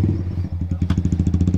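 A Kawasaki Z800 superbike idles and then revs up close by, its engine pulsing into a fast, even, throbbing beat on a public road.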